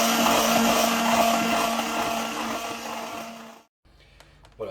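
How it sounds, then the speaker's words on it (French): An immersion blender whirs through chocolate macaron filling, a loud steady motor drone that fades slightly before cutting off abruptly near the end, followed by brief quiet clicks. "il est conseillé maintenant de finir tout ça au mixeur plongeant"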